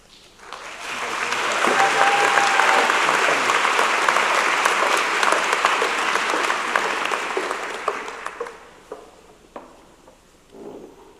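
A convocation audience at a university ceremony gives a sustained round of applause for award winners, swelling quickly, holding strong for several seconds, then tapering to scattered claps.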